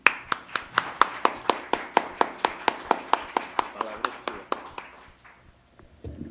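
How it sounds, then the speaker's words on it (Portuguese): Hands clapping in welcome at a lecture on women publishers in Brazil, a sparse, evenly paced series of about twenty sharp claps that trails off into quiet. "E eu peço a todos aplausos antecipados para a Ana Elisa Ribeiro."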